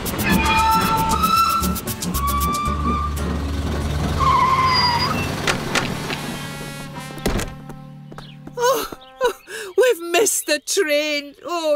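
A cartoon train in Postman Pat rumbles and clatters loudly for several seconds, with squealing tones over it, then stops abruptly and cartoonish music and effects take over.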